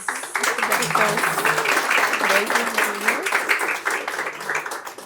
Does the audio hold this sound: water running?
no